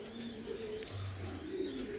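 Racing pigeons coo softly inside a loft, low throaty murmurs overlapping with a faint chirp, steady and moderately close with a light ambient hiss behind them.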